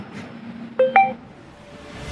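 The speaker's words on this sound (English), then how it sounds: "so it is ringing" An outgoing phone call to a support line connects with two short electronic tones in quick succession, clear and close, followed by a faint line hum. No one speaks.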